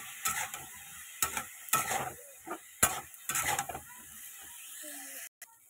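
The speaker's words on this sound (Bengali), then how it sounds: "ভাজা করবো ভালো করে।" Cauliflower and potato fry in a pan with salt and turmeric, and a steady sizzle sits under repeated scraping stirs that come in uneven bursts, close and fairly quiet.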